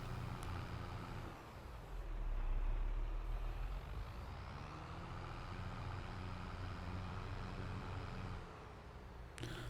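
A forestry mulcher clearing bushes in Farming Simulator 22 runs as a steady, loud mechanical drone of engine and grinding. It swells for a couple of seconds early on, then holds a continuous rumble with no talking.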